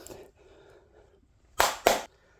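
Two sharp, loud hand claps land close together near the mic, each a crisp burst, after a stretch of quiet low background murmur.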